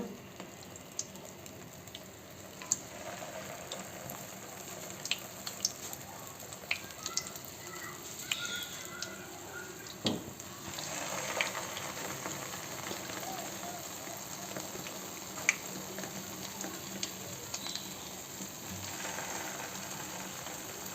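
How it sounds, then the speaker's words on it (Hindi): Egg-dipped chicken shami kababs shallow frying in oil over medium heat, a steady soft crackling sizzle with scattered pops, moderately faint and continuous throughout. "अब ये शैलो फ्राई करने हैं"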